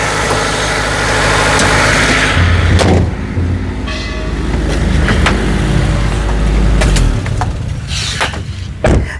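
A 2001 first-generation Honda CR-V with four-wheel drive and a B20B engine runs with a steady low rumble, overlaid by scattered clicks and knocks; nobody speaks.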